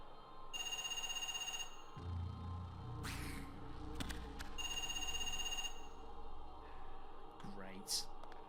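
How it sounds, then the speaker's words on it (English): Telephone ringing in the video game Parasite Eve 2, two long electronic bell rings with pauses between, with a low ambient hum underneath and brief game sounds near the end. "Who the hell would be ringing here?"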